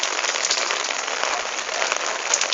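Heavy rain pours down in São José dos Campos, a dense, steady hiss of drops striking the ground close by with no other sounds.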